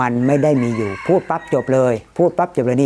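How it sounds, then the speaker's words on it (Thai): A rooster crows loudly and close by with a long, drawn-out call. A man's speech follows right after it. "ไก่ขันอยู่"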